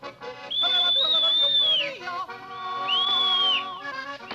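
A girl whistles a high, clear melody in two long phrases in a mountain setting, bright and fairly close over soft background music.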